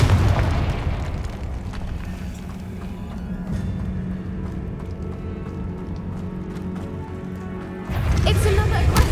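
A Confringo fire spell detonates in Hogwarts Legacy, a loud booming blast that swells at the start and returns in force near the end, with a lower rumbling stretch between.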